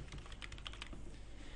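Fingers type a login name and password on a computer keyboard, a quick run of light key clicks that is dense at first and then thins out, close and quiet, with no voices.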